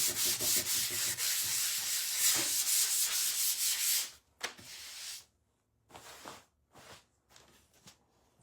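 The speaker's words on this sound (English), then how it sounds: "all I'm gonna do is I'm just gonna take again my sander, just sand it out a little bit" An electric sander runs on a wooden craft piece decorated with a rub-on transfer, first as a steady close-up grinding rasp for about four seconds, then in short separate bursts with quiet gaps.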